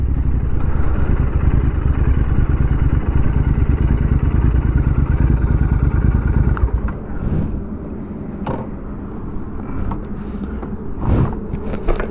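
Motorcycle engine runs steadily and loudly up close for about six seconds, then drops to a rougher idle with intermittent clattering and bursts; the rider's bike was chosen for its loud exhaust sound compared with quiet stock bikes.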